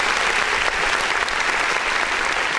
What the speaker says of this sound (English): let's give a little bit of a clap